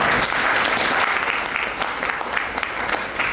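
Loud applause from an audience at a business seminar, strong sustained clapping that starts at full volume and eases slightly toward the end, with individual claps audible in the crowd's rhythm.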